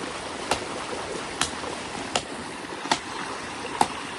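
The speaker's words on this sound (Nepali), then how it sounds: "पानी बगिरह मजाले" A stream flows near Durbang in Arghakhanchi, Nepal, giving a steady, close rushing wash with a few sharp, evenly spaced knocks over it.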